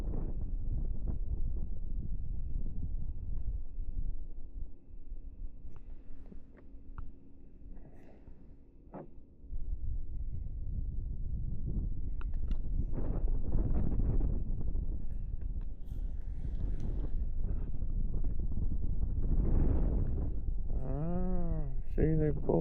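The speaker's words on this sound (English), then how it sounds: "The wind's starting to pick up a little more than I want to deal with." Strong wind buffets the microphone on a lake during a crappie fishing outing, a steady low roar that gusts louder in the second half, with someone talking and animal bleats briefly heard near the end.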